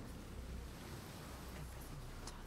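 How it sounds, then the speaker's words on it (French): Sea waves retreating along a shore in the video game Hellblade II, a soft continuous wash of surf and wind, faint and steady with no voices. "Je sais pas si j'ai vu des vagues aussi réalistes avec la mer qui se retire."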